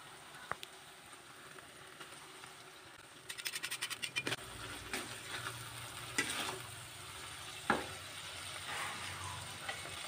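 Battered fried chicken gets stirred with oyster sauce in a pan, with a soft sizzle under scattered scraping strokes of a utensil against the pan. There is no talking.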